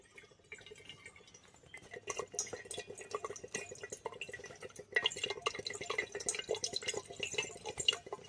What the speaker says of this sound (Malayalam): ഇപ്പൊ വെള്ളം ഇപ്പൊ കുടുകുടാന്ന് പറഞ്ഞ് വരും കേട്ടോ